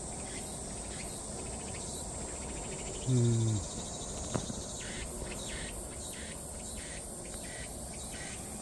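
Steady high cicada buzzing fills the background throughout, droning outdoors near flowering crape myrtle trees, with a brief low hum and a faint murmur partway through.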